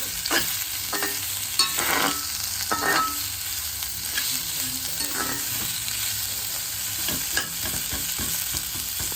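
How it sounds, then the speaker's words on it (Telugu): Sliced onions fry in oil for dosa masala. A steady sizzle runs throughout, and a spatula scrapes and stirs the pan at irregular intervals. No voices are heard. "ఇవి కొంచెం ఫ్రై అయిన తర్వాత కొంచెం ఫ్రై అవ్వాలండి"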